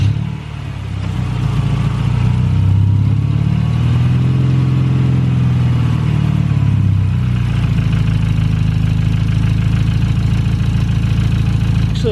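A BMW F30 with a cut exhaust and clamp runs steadily at idle, a loud continuous engine drone with a brief rise in pitch early on, likely with air escaping at the leaking exhaust joint, no voices.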